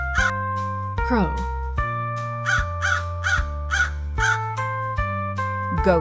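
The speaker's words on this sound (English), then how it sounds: "Crow." A crow caws repeatedly, loud harsh calls in a rapid uneven series over a steady background music bed, with no talking.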